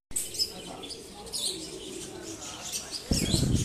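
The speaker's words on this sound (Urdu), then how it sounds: "یہ آپ دیکھ سکتے ہیں فاد عامر صاحب کے, اور بہت تعداد میں کبوتر ہیں جی ان کے پاس." Pigeons on a rooftop loft coo and chirp in scattered calls, with a burst of wing flapping near the end, heard outdoors at moderate distance amid light background noise.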